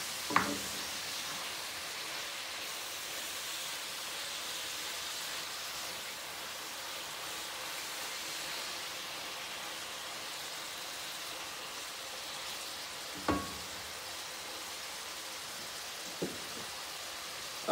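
Ground beef with salt and seasoning sizzling in a pan, a soft, even hiss like light rain lasting throughout, quiet and steady, with a couple of faint clicks.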